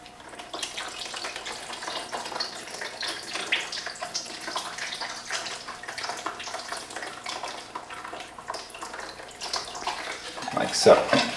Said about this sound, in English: we can pour it back out into the bowl